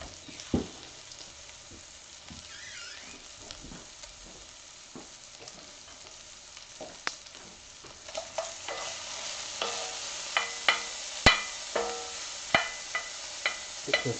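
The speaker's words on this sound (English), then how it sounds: "So while this is frying, while I'm getting my bacon going" Bacon sizzles in a frying pan while plantains are also being fried for Puerto Rican mofongo, a soft steady crackle with scattered louder pops and spatters that grow more frequent toward the end.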